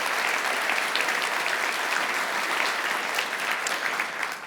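Full-room applause from a conference audience for Uncle Perry, a dense, steady wash of clapping that holds at a constant level throughout, with no talking over it.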